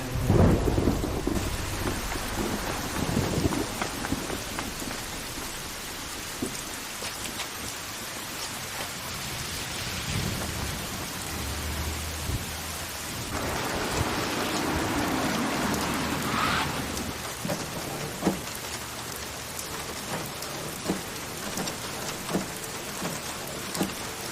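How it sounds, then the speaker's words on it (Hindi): Heavy rain pours steadily over Seoul while thunder rumbles and cracks through it, loud and continuous with no voices present. "सियोल का मौसम देख के ऐसा लगता है कि ये बारिश थमने नहीं वाली।"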